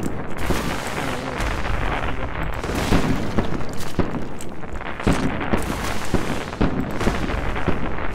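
Cannon fire in the video game ARK: Survival Evolved, during a lava-filled dungeon run, sounds as a dense barrage of repeated booming blasts over continuous rumbling game noise, loud and close throughout.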